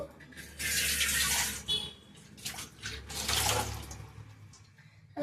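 Something is washed under running tap water before masala is prepared for cooking, giving bursts of splashing, gushing water that start and stop close by, with quieter pauses between them.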